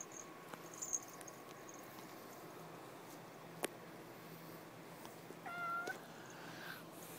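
Faint cat meows sound a few times against a quiet, hissy background, with a short tonal call rising then falling near the end and occasional small clicks.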